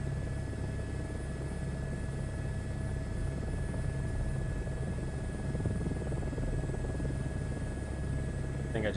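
A helicopter in Microsoft Flight Simulator lifts off with a steady rotor and engine drone that stays continuous and even throughout, a constant hum with faint tonal whine, moderately quiet and unbroken.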